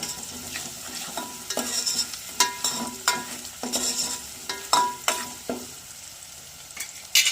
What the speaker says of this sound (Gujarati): પછી નાખી દેવી ડુંગળી, ડુંગળી સેજ લાલ થઈ જાય ને મસ્ત મસ્ત